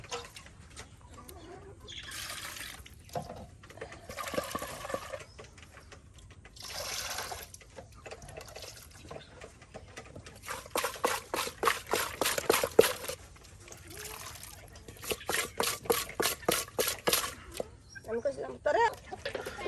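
Taki fish are washed clean with water in a village kitchen, splashing and pouring in bursts, rapid scrubbing sloshes at times, with talk throughout.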